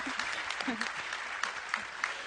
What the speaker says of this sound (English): a round of applause to yourself